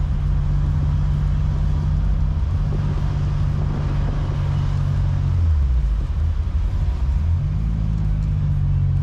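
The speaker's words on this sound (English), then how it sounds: "Car's been idling now for about 20 minutes." A BMW 733i engine idling on a hot day, a loud, steady low rumble close by with a constant hum and a slight dip and shift in pitch partway through, with no voices.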